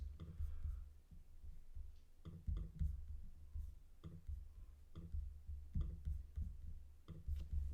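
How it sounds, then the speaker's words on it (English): Keys tapped on a keyboard resting on an uneven surface give irregular bursts of soft, close clicks and knocks with a low thudding undertone, continuing through the whole stretch. "I am typing on a very uneven surface."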